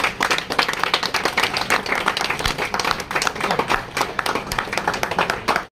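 An audience claps at a free Fitness of Telangana event in Sadashivpet, Sangareddy district, with dense, steady applause from many hands, loud and close, holding for several seconds before cutting off.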